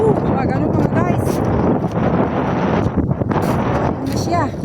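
Strong wind at an outdoor nature spot buffets the microphone with loud continuous rumbling gusts, while people talk over it.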